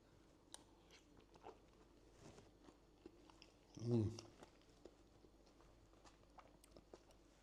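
A mouthful of spicy king prawn jalfrezi with green pepper, onions and garlic is chewed close up in one brief, soft burst of crunchy mastication amid quiet room sound.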